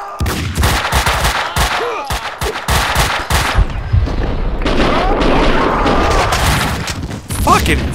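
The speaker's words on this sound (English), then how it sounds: "More explosions!" Loud bursts of rapid automatic gunfire and booming explosions from the video game Max Payne 2: The Fall of Max Payne, dense and continuous, with shouting voices mixed in.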